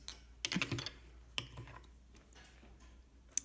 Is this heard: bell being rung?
no